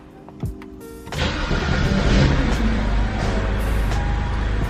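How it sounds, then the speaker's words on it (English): BMW engine starting after fault codes are cleared: a short whirring crank, then the engine catches and settles into a loud, steady idle close by. "just start your car."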